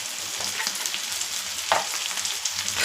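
Ginger and garlic frying in a pan as an Indian dish cooks, giving a steady, fairly quiet sizzle with a faint clink or stir near the middle.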